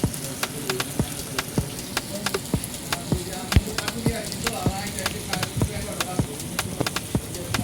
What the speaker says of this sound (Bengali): ইলিশ মাছ ভাজতেছি খিচুড়ি দিয়ে সবাই মিলে একসাথে খাবো